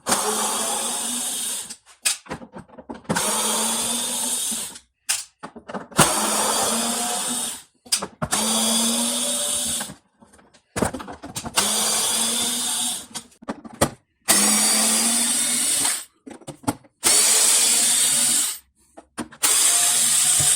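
Power screwdriver working a Torx screw on a 2nd-generation Audi TT door, running in repeated loud whirring bursts of one to three seconds separated by short pauses, close up with no talking.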